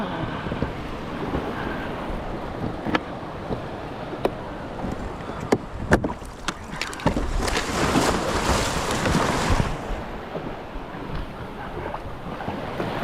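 A kayak lands through ocean surf under paddle power, with wind buffeting the microphone, waves washing and rushing around the hull, and sharp splashes and knocks of the paddle, the surge growing loudest midway before easing.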